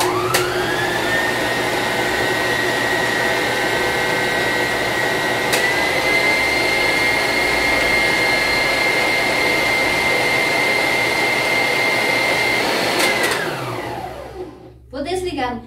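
An electric mixer whirs loudly and steadily while beating egg yolks and water for a pot-cake batter, a constant high motor whine that winds down and stops near the end, followed by brief speech.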